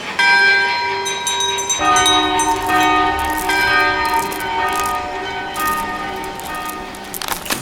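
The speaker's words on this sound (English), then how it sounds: "Is that a fucking train in my stairwell?" A train rumbles loudly nearby with ringing, bell-like metallic tones and a horn-like drone, continuous throughout.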